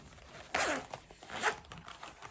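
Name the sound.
zipper being unzipped on an Ipsy makeup bag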